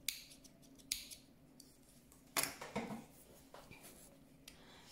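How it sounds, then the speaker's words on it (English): Scissors snip through yarn during a crochet project, a few quiet, sharp cuts spaced apart with one louder snip in the middle, close by and with no talking. "Now I can cut my yarn, leaving a long tail for sewing"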